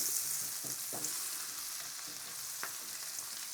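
Tinned potatoes sizzle in garlic butter with rosemary in a pan, a steady close frying hiss with a few brief stirring scrapes and spatters, no voices.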